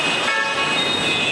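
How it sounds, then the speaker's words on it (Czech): Car horns toot at a busy New Delhi intersection, a loud sustained honk standing out over dense surrounding traffic noise. "Všichni troubí samozřejmě."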